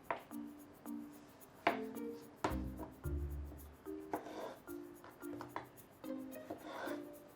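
Knife cutting a cucumber into quarters on a board, a series of short, separate cuts and taps at an uneven pace, close and fairly quiet, with no talking.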